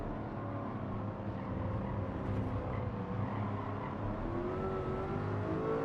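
A Lamborghini Countach LP5000 25th anniversary engine in a racing game drones steadily at a moderate level, with a continuous rising and falling rev tone that holds throughout, no voices.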